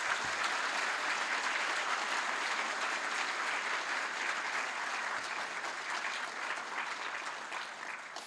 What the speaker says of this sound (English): thank you, and round of applause.